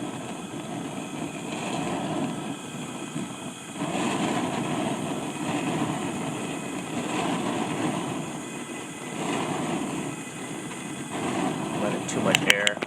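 A Bayou Classic banjo cooker's propane burner roars steadily like a jet, a broad rushing hiss that swells and dips every couple of seconds as the regulator and air intake are adjusted, with a few sharp clicks at the end.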